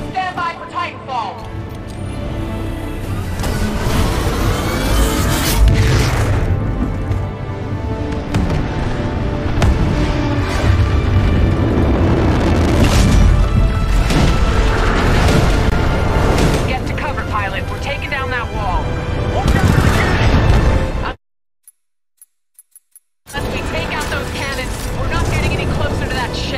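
Titanfall 2 gameplay: a titan drops from the sky amid loud booming explosions, mechanical clanks and dense gunfire, a constant roaring wall of noise with speech over it, cutting to brief silence near the end before resuming.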